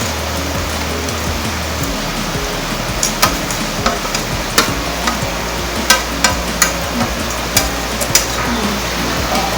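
Boondi tipped into hot jaggery syrup in a pan after the gas is switched off and stirred, giving a dense steady bubbling hiss with scattered sharp clinks and scrapes of the spoon, close and fairly loud.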